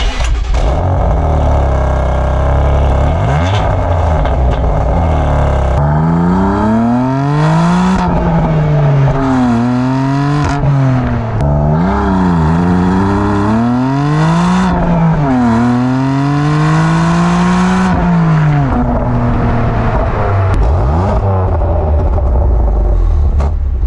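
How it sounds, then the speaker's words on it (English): A 2021 BMW M2 CS engine revs hard again and again through its quad exhaust, the loud exhaust note rising and falling in sharp sweeps over a deep steady rumble. "you have quad real exhaust. There's no fake tips, nothing. These are real"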